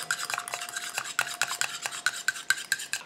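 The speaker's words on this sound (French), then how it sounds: "Et j'incorpore mon lait d'avoine en mélangeant tout gentiment." Oat milk is stirred into an oil phase in a container to make a night cream, a utensil scraping and clinking against the sides in a steady, quick rhythm, close and clear with no voices.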